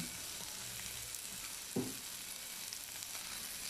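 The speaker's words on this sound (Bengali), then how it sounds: "সরিষার তেল দিয়ে একটু পেঁয়াজ আর রসুন আরও একটু ভেজে নিলাম" Onion and garlic frying in mustard oil in a pan, a steady soft sizzle running throughout with a brief louder stir or scrape near the middle, no talking.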